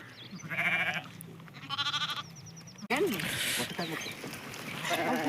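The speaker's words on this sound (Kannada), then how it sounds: "ಇದೊಂದು ಹಾಲಿನ ಕುರಿ" A milking sheep bleats several times close by, with a person talking over and between the calls.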